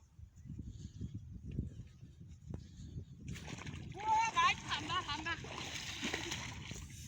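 Splashing in river water while bathing and swimming: a voice talks, then loud, close sloshing and splashing takes over for the second half and continues under the talk.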